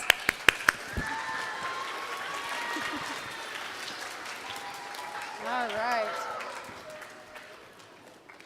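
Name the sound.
kids camp audience applause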